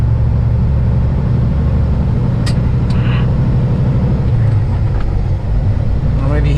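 A pickup truck engine rumbles steadily and close on a roadside in Alamo, Nevada, a low continuous drone throughout, with faint muffled voices underneath.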